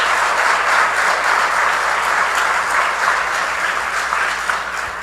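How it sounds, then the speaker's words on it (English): Sustained applause from the audience at a grand opening ceremony for the new mHUB innovation center, a dense, steady wash of many hands clapping at full volume, tapering slightly near the end. "Can we have a round of applause for all of them?"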